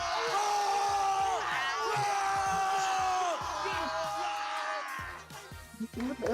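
A crowd at an MPL Mobile Legends esports match cheers and yells loudly and continuously, with whoops and screams swelling, then briefly dipping before picking back up near the end.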